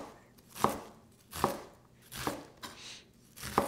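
A knife dices onion finely on a cutting board in steady, close, distinct chops, about one every 0.8 seconds, with soft scraping between strokes and no speech.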